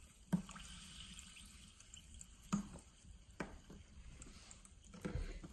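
Sparkling spring water poured back out of a glass, a faint, quiet trickle with a few soft drips and splashes spread across the clip, no voices.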